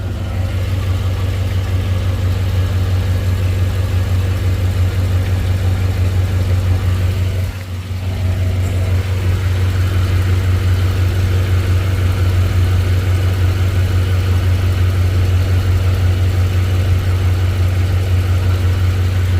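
Car engine idling just after start-up, a loud, steady low rumble that runs continuously with a brief dip partway through and no talking.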